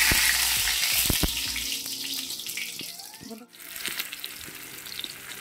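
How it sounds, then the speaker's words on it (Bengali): Dried red chillies sizzle in hot oil in a heated wok, a loud crackling hiss that fades partway through, briefly drops out, then picks up again more softly. "তো দিয়ে দিলাম বন্ধুরা এই যে শুকনো লঙ্কা"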